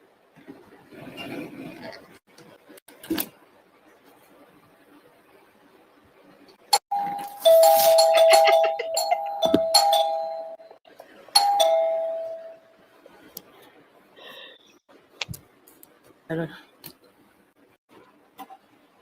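A Ring doorbell chime rings out clearly with sustained tones, preceded and followed by scattered clicks and faint shuffling sounds.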